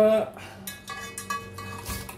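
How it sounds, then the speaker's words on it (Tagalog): Freshly caught crabs dropped into a metal cooking pot give clattering, clinking knocks of shell against metal, a few quick hits close up in a kitchen. "Nilagay ko na sa kaldero."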